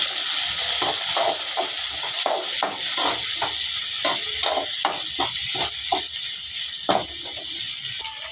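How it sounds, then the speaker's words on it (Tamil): Shredded cabbage and capsicum sautéing for egg noodles in a pan, a constant loud hiss and sizzle with irregular stirring knocks throughout. "கேபேஜை போட்டுக்கலாம் குடமிளகாயும் போட்டுக்கலாம் வதக்கி விடுவேன்"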